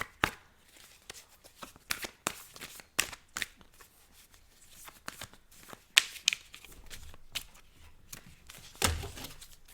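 Tarot cards shuffled and drawn by hand, a close series of irregular crisp riffles and flicks with brief pauses between bursts, no voice heard.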